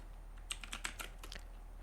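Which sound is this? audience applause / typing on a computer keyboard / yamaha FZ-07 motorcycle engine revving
typing on a computer keyboard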